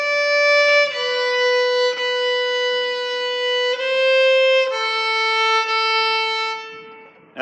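Violin plays a phrase of Lightly Row, sustained bowed notes changing in steady half-note steps, close and clear with no talking.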